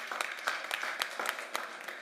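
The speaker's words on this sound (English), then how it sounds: "Give him a round of applause, please." A short burst of audience applause at a COP28 food systems session in the Nordic Pavilion, many hands clapping at a moderate distance with a few sharper individual claps standing out, fairly faint.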